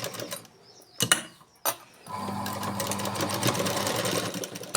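A home sewing machine running steadily while stitching maggam embroidery on a saree, with a sustained mechanical whir and low hum after a few brief clicks and knocks at the start.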